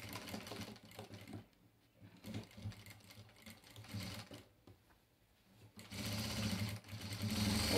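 A sewing machine stitches recycled fabric scraps for a patchwork quilt, running in bursts with short pauses and quickening toward the end, close and fairly quiet.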